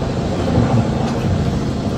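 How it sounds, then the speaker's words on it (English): A helicopter passes overhead near a moored sailboat, a loud, steady low rumble and whir that fills the whole moment with no voices. "a helicopter comes over"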